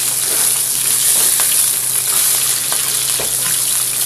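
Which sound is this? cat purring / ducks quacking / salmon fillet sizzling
salmon fillet sizzling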